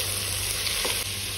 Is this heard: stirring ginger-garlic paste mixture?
yes